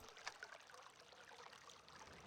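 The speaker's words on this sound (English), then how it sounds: "install the microphone just to capture the sound of this water. Flowing water." Flowing water in realMYST, a quiet, continuous trickling stream with soft bubbling and a few brighter splashes early on.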